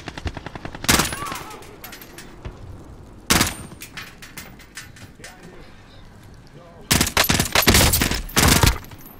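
Bursts of hostile gunfire in a military shooter game: a sharp volley near one second, a single loud crack around three and a half seconds, and a dense rapid fusillade in the final two seconds, with quieter ambient game noise between.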